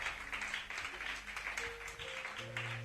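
A church congregation at a Pentecost service applauds and cheers to acclaim the Lord, a dense, steady wash of clapping throughout with a sustained musical tone entering underneath near the end.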